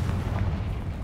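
A Confringo spell in Hogwarts Legacy bursts as a short, deep, rumbling boom, loud and close, fading quickly within about a second.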